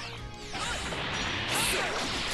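Hellzone Grenade attack in Dragon Ball FighterZ, a loud dense burst of energy blasts and crashing impacts with swooshing layers that swell toward the end, no talking.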